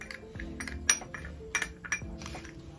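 A spoon clinks against a bowl while salt and amchur powder are mixed into vegetables, giving a few sharp, close metallic taps and scrapes at an irregular pace.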